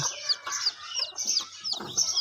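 Repeated high, thin peeping calls from several native chicken chicks, overlapping in quick bursts with soft clucking underneath, fairly close.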